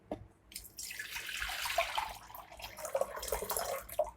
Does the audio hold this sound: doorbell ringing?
no